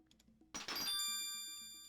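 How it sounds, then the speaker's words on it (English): A short bright chime from the video game Quest for Glory 3 marking points gained, a single struck tone that rings on and slowly fades after a brief burst of clatter, over faint game background. "So we heard the little chime. That's supposed to be our notice that we gained points"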